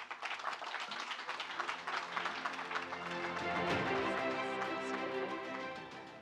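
Conference audience applauding the ambassador at a carbon markets event in Africa, a sustained round of clapping from a seated crowd, with music-like tonal lines rising under it, swelling in the middle and easing toward the end.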